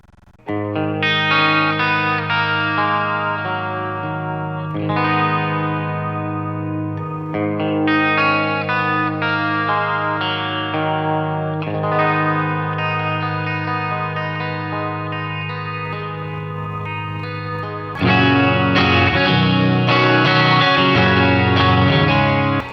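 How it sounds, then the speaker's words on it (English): Electric guitar chords through a BOSS Katana MK2 amp ring out drenched in heavy, spacious reverb, with long overlapping tails, growing louder and denser near the end. "What if I just go crazy with reverb?"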